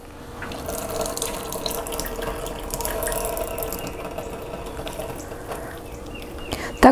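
Water runs from a kitchen tap into a sink as thawed cod is squeezed out, making a steady splashing stream for several seconds with a small clatter at the end and no talking.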